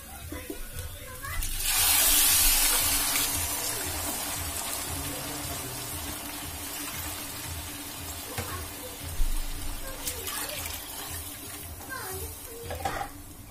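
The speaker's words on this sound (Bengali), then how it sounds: "এখন এর ভিতরে আমি পানিটা দিয়ে দিব।" Water is poured into rice being fried in a pot for chicken vegetable pulao, a loud rushing hiss that swells and then settles into sizzling and bubbling, with a few utensil clinks and a voice talking over it.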